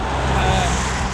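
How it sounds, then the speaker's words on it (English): Cars passing on a road beside Hadrian's Wall, with a broad, steady rush of traffic noise that stays close and loud throughout, like a vehicle going by at speed. "We're on a road, there's cars going up and down"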